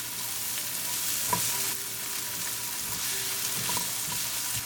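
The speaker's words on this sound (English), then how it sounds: "we're going to saute our onion until they become translucent" Onion sautés with cumin in olive oil in a pan, a soft, steady sizzle with occasional light stirring taps, quiet and unbroken by talk.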